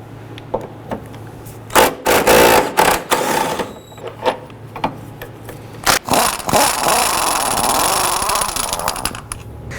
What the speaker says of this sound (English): I'm going to start by removing this bolt here, and this bolt here.